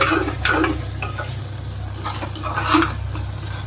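Khichuri of rice, lentils and mixed vegetables cooks in a pot, with a spoon stirring and clinking against the metal over a low hum and soft bubbling.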